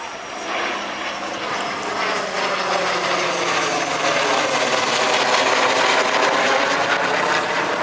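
A Vought F4U Corsair warplane flying at the 2021 Dayton Airshow, its propeller engine roaring loud and continuous as it passes, swelling slightly as it draws nearer.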